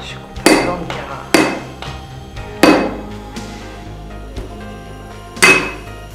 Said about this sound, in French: Je coupe un blanc de Carrare.